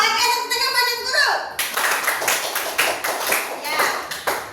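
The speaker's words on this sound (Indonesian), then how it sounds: "tepuk tangan buat guru" A classroom of children claps for their teacher in a quick, rhythmic burst of repeated hand claps, with young voices mixed in at the start.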